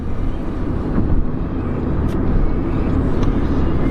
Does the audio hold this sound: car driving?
yes